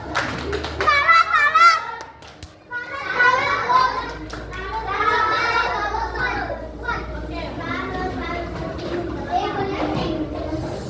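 Schoolchildren in an Indonesian classroom do a rhythmic clapping chant, many young voices chanting together close by with patterned hand claps mixed beneath them.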